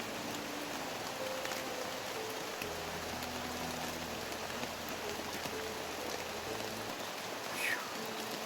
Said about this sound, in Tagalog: Tol, ang lakas talaga ng ulan